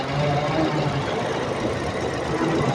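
A Toyota Camry engine runs steadily, a continuous broadband mechanical hum with low rumble, close and constant for the whole stretch with no pauses.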